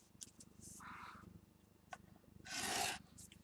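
Paper being scored on a scoring board for a mini album, with short rubbing strokes and a louder raspy scrape near the end, close and quiet against faint background hum.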